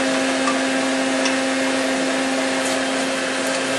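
Lathe working on locomotive lead wheels, a loud constant motor hum with a strong steady tone, running evenly throughout with no clear start-up heard.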